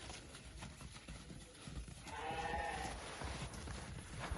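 Arashan sheep offered for sale bleat once, faint and drawn-out, over a steady outdoor hiss with no talking.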